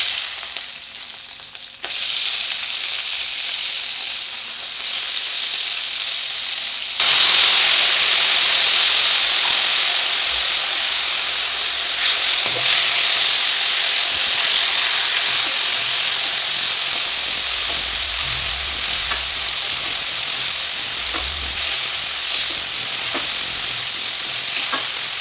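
Raw spice paste with asafoetida fries in a pan; after a quiet start, a loud, steady hiss and sizzle bursts in and continues close up, with faint low scraping later on.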